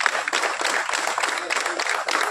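Audience applause honoring a departing area safety officer at a mine farewell function, steady dense clapping from a crowd with no break throughout.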